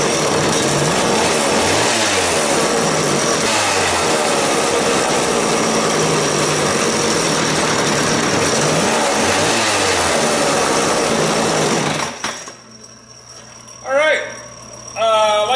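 A McCulloch 2-10 chainsaw, freshly fitted with new rings and seals, runs loud and close with a steady two-stroke drone and occasional revs, then cuts off and sputters in short bursts at the end, with speech over it.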